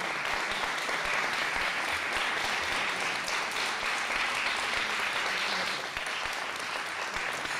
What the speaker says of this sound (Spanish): el aplauso para ellas